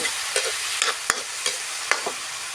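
Egg with cucumber and glass noodles is stir-fried in a pan, with repeated sharp spatula scrapes and clacks against the pan over a constant sizzle, and nobody speaking.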